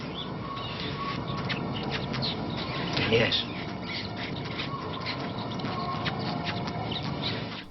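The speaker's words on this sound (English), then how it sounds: "Oh, suckling pups." Suckling pups squeal in the 1977 film Eraserhead, faint high squeals with one brief louder burst, heard amid a murky film soundtrack as a voice speaks.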